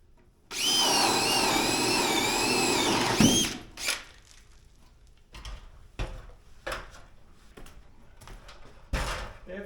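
A power drill whines at high speed for about three seconds while drilling holes up high, then stops, followed by a series of scattered knocks and clunks nearby.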